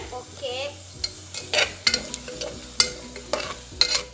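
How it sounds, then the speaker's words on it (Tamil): Sliced onions and green chillies frying in a pan on a low flame for chicken biryani, soft sizzling under repeated sharp clinks and scrapes of a spoon against the pan. "நான் இப்போ வந்து வெங்காயம் ஆட் பண்ணுறேன் கிரீன் சில்லி ஆட் பண்ணுறேன்"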